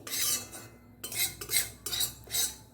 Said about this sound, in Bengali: তো এটাকেও আমি এর সঙ্গে একটু ভালো মতো ভেজে নিচ্ছি।